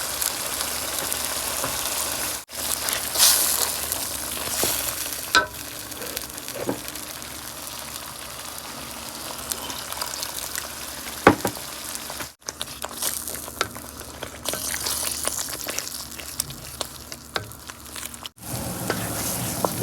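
Poppy seed paste frying in a pan with tomato puree for a jackfruit kofta curry, giving a steady close sizzle with occasional stirring scrapes throughout.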